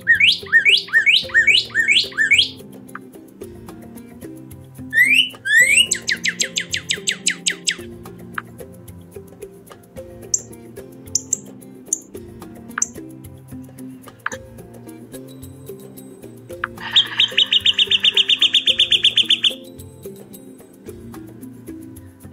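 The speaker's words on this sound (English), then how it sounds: "Here are some common sounds you might hear when you hear the cardinal singing." Northern cardinal song in the Florida Keys, clear whistled phrases of rapid repeated slurred notes in several bursts, with a low ticking background hum throughout.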